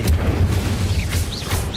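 Incendio fire spell cast in Hogwarts Legacy, a short burst of whooshing, rumbling fire with a soft boom and a brief rising whistle.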